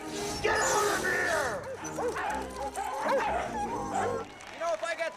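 Dogs bark and yip repeatedly close by, with whimpering mixed in, while someone speaks over them.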